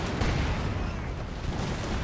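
A Teller mine detonating beneath a Stuart tank in Blitzkrieg, heard as a continuous rumble of booms and battle noise, heavy and low throughout with a faint voice underneath.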